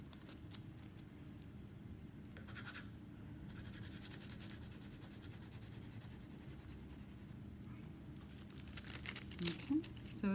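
A pencil traces a pattern on greaseproof paper, giving soft, steady scratching and faint crinkling of the sheet, with a person talking over it.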